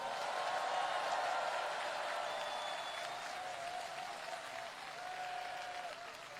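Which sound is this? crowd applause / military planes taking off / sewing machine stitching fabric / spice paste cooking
crowd applause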